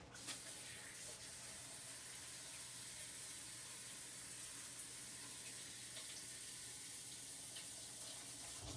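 A kitchen tap runs steadily while pork patties are rinsed under it. The water makes a constant soft hiss and splash from start to finish, faint and close, with no voices.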